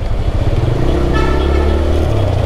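Eight to ten motorbikes gathered in Dhaka, heading out on a ride, produce a loud, dense engine rumble that swells steadily, with a brief rise in revving midway.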